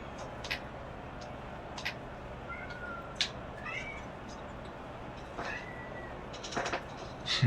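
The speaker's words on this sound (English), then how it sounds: "My cat's going crazy in the background." A cat meows several times in the background, short, fairly faint cries spread across a few seconds, over a quiet indoor room hum.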